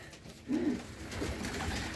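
A pigeon gives a soft, low coo close by, followed by faint murmuring coos against a quiet outdoor background.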